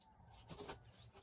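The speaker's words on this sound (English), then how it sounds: "I'm sorry if you can hear the roosters in the background." Roosters crow faintly in the distance outside an RV; one short, muffled call rises briefly above a low background hum.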